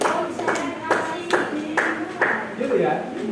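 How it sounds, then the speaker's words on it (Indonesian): A group performs the rhythmic tepuk konsentrasi concentration clap at a teachers' gathering, with a steady series of sharp hand claps about every half second, mixed with voices. "tepuk konsentrasi."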